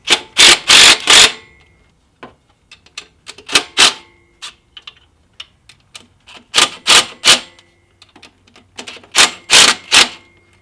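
Ratchet wrench loosening the alternator tension bolt on a Subaru WRX engine, loud close bursts of rapid clicking in several short runs with brief metallic taps between them.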